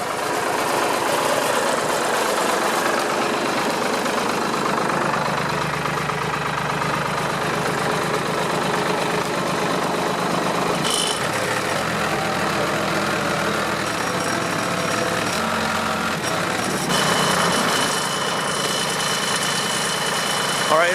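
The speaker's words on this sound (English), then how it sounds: "hop up on the tractor with me" A tractor engine idles and runs steadily at close range, a low continuous rumble with mechanical vibration that shifts slightly in pitch.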